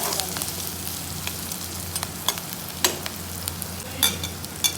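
Onions browning in a hot pan give a steady close sizzle and crackle, with scattered clinks and scrapes of a spoon stirring against the pan.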